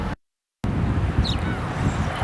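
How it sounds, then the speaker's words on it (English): Steady wind at Edgewater Park, a broad rumbling roar buffeting the microphone outdoors, loud and continuous after a brief dropout, with faint traffic-like noise underneath. "It's a windy day at Edgewater Park"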